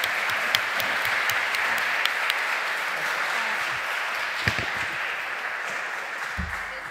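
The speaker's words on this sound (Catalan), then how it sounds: "Jo crec que també mereixen un aplaudiment els d'Olot." An audience at a volunteer language event claps steadily and fairly loudly for several seconds, a dense, even patter of many hands that carries on without a break.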